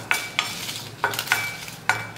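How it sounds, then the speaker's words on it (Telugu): Red chilies dry-roasting in a pan with no oil, sharp scraping stirs landing every half second or so over a soft, steady background hiss, close and fairly quiet. "2 మిరపకాయలు వేస్తున్నాను నేను. ఇవి కూడా అమ్మ మనకి దోరగా వేపుకోవాలన్నమాట"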